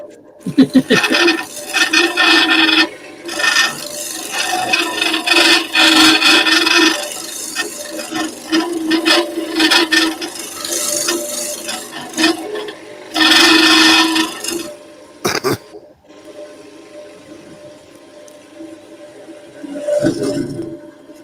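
Wood is being worked on a lathe, giving loud rasping, scraping bursts of tool against spinning workpiece that come in long stretches and pause briefly, with a low motor hum running beneath.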